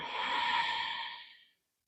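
A single deep, breathy exhale, close and soft, trails off after about a second and a half into silence.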